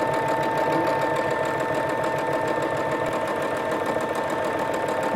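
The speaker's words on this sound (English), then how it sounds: "Do your machine basting stitch about 1/4 inch away from the top edge and stitch all the way down to the end of your strip." Sewing machine running a long basting stitch along a fabric strip for a towel pot holder, a steady rapid mechanical whir and clatter that continues unbroken at close range.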